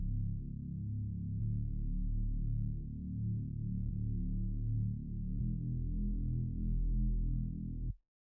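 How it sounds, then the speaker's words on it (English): Heavy sub bass synth preset in GarageBand for iOS, soloed: a deep, sustained low-end drone playing held notes that change pitch every second or so, steady and loud for about eight seconds, then cutting off abruptly. "I'm using the heavy sub bass preset."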